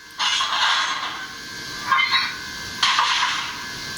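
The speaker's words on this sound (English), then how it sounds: "Function 3 is coupler sounds." Coupler sounds from an HO-scale Rapido Royal Hudson model steam locomotive: metallic clanking and hissing bursts, with a long rattle at first, then two shorter clunks about a second apart.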